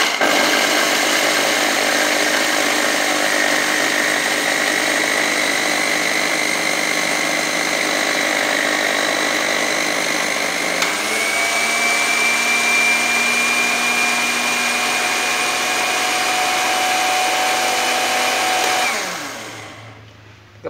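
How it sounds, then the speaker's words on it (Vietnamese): An electric blender grinds roasted sesame fishing bait, a loud, steady motor whine with a high-pitched drone that shifts pitch about halfway through, running continuously before winding down at the end. "Đây là cái máy xay của chúng ta nè."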